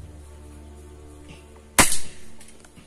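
A single sharp crack from a Rossi air rifle firing a pellet, close and loud against a quiet background, with a short ringing tail after the shot.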